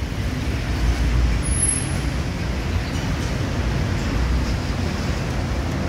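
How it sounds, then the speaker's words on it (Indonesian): A bus pulls in to a stop with a broad, steady engine and road rumble close by. A brief hiss like an air brake sits among the traffic noise, with no talking. "Ini bus ketiga masuk."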